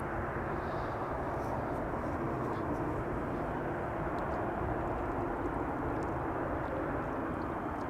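Saudia airliner arriving at Amsterdam Schiphol from Jeddah, a steady broadband jet roar holding at a constant, moderately distant level throughout with no clear rise or fall.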